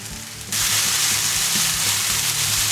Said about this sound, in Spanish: lo removemos un poquitín y le incorporamos el resto de la cebolleta, o sea, la parte verde